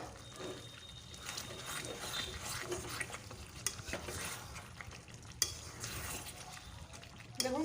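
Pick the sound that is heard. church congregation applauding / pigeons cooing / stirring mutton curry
stirring mutton curry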